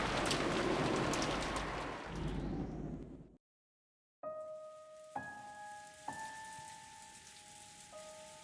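Steady, dense rain hisses loudly in a Umineko: When They Cry visual novel, then cuts to a moment of silence before soft sustained chime tones begin.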